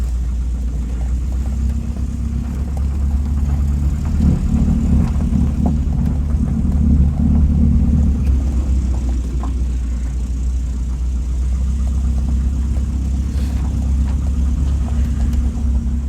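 A 1992 Volvo 244 with bad piston slap drives along with a steady low engine rumble and road noise heard from inside the car, loud and continuous throughout, with no talk.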